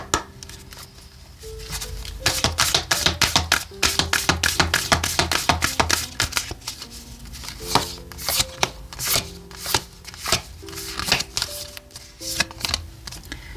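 Oracle cards are shuffled in quick bursts of crisp riffling and flicking, near and busy, with tapping pauses between rounds while a soft voice and light music sit faintly underneath.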